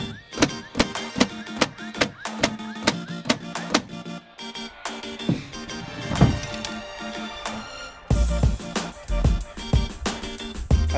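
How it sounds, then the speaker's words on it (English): A Dewalt 20V 18 gauge cordless brad nailer in multi-shot mode fires nails into wood, giving a rapid series of sharp, loud thwacks, then a pause and a second cluster of shots, with some talk between them. "once you hold the trigger, the motor will continuously run to shoot as many nails as you want"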